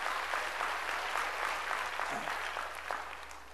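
Church congregation applauding during a sermon, a sustained wash of many hands clapping at moderate distance, fairly even in loudness throughout.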